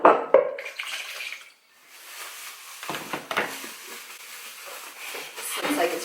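Water poured from a cup into pumpkin spice batter in a home kitchen, a close splashing and trickling pour that fades, with people talking over and around it.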